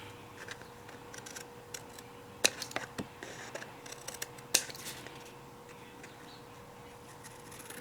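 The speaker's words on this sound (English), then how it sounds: "So I'm going to take this one and just follow the lines, cut the tabs off" Scissors snip the tabs off a Tonic Studios papercraft star box kit, giving faint, scattered clicks and snips, a few sharper ones, over a quiet room hum with no talking.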